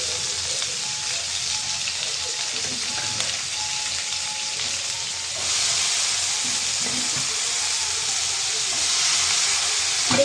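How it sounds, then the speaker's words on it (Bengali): Onion and vegetables fry together in a pan with a steady hiss and sizzle, growing a bit louder partway through as the vegetables go in, continuous and close with no talking. "সবজি আর পেঁয়াজ দুটো জিনিসই একসঙ্গে ভাজা হয়ে যাবে।"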